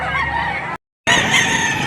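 A Kanawayon stag rooster, about eight months old, crows loudly and close in two bursts split by a short gap of silence.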